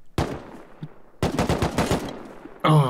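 Bursts of AK rifle fire in a video game battle, a rapid automatic volley followed by a second, longer stretch of close, loud shots, with a brief sharp sound at the end.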